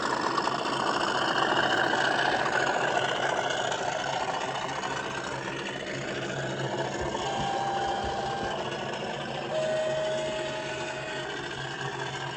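An Accurascale Class 37 model diesel locomotive's sound unit plays a continuous, fairly loud engine drone with a gritty, throbbing character. Near the end a faint whine-like tone rises over it, with no voices.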